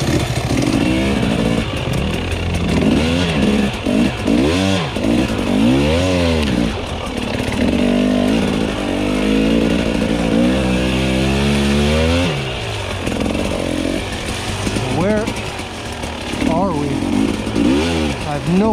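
A Husqvarna TE300i enduro motorcycle rides singletrack, its engine loud and close throughout with repeated rising and falling revs as the rider works the throttle and gears, and a voice speaks over it at times.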